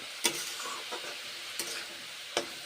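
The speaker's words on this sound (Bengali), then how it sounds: "মশলা দিয়েছি তারপরে নেড়ে চেড়ে খুন্তি করে" A spatula stirs spiced cabbage in a pan, with four sharp scraping knocks against the metal over a soft, steady sizzle, close by.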